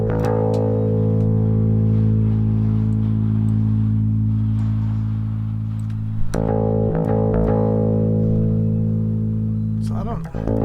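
An audio signal distorted by a compressor plugin with auto gain compensation: a steady, buzzy, harmonic-rich drone with gritty crackling edges, loud and continuous, briefly breaking up twice near the end.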